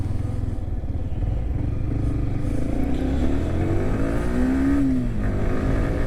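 A Yamaha R15 V3 sport motorcycle engine runs steadily and loud throughout, its pitch rising as the bike accelerates while riding, with no talking.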